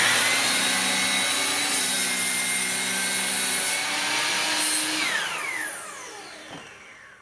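A saw cuts through a piece of 4x4 timber, producing a steady, loud rasping and whining drone that holds for several seconds, then tapers off as the cut finishes.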